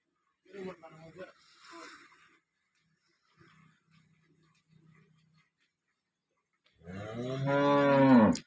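Cows at milking time on a farm give a loud, close, drawn-out moo near the end, after earlier softer lowing and scattered quiet sounds in an otherwise still setting.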